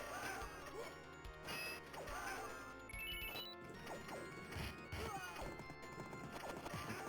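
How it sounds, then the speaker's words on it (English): A horse in a 1991 Capcom arcade video game clip-clops along and neighs amid busy game music, crashes and hits, all loud and continuous. "Horse."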